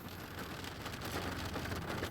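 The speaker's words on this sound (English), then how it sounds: "Here comes the rain, guys." Steady rain pours down during a thunderstorm with heavy lightning, a dense continuous hiss of drops on surfaces throughout, with a faint low rumble beneath.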